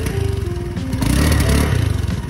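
Motorcycle engine idling roughly and sputtering from a faulty throttle body, a loud, close, uneven putter with irregular pulses and a brief swell mid-way, heard alone without talk.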